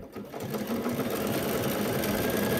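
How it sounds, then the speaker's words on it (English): A sewing machine running a back-and-forth stretch stitch on fabric, giving a steady, close mechanical whirring with a fast regular rhythm, no talk. "this stretch stitch, it goes slower because it's going back and forth"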